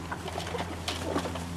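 Pigeons cooing softly in a breeding loft, a few low murmured coos over a steady low hum, close and fairly quiet.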